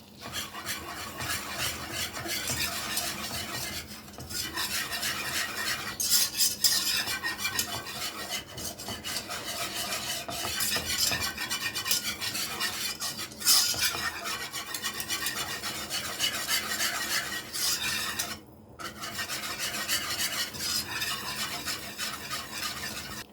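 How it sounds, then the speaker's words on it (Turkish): Flour roasting in melted butter in a pan is stirred for a long stretch, making a continuous close scraping and rasping with a soft sizzle underneath and one brief pause near the end. "Unumun kokusu çıkasıya kadar unumu kavuracağım."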